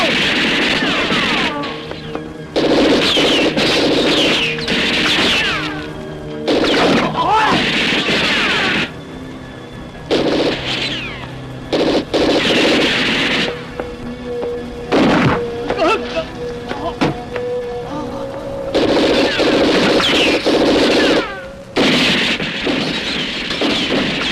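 Gunfire in a film action scene comes as repeated loud, sharp bursts and bangs in clusters, separated by short lulls, with shouting voices mixed in.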